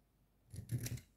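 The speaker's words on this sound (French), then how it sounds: "Donc je vais la couper un petit peu." Scissors snip through a folded greeting card in a quiet room, a short run of two or three crisp close cuts that starts after a brief silence.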